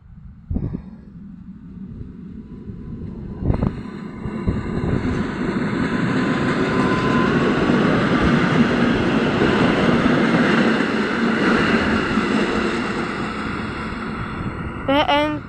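A train pulls away from Rzeszów Zachodni station, its rumbling roar swelling and then holding steady over about fifteen seconds. The sound is close and loud, with some wind buffeting the microphone and a few sharp knocks.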